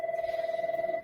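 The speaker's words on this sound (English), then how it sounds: "I apologize for the phone ringing in the background." A telephone rings steadily in the background, a continuous electronic tone with a fast warbling pulse, fairly faint and alone without talk.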